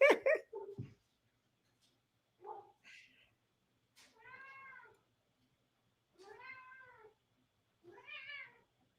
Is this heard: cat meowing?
yes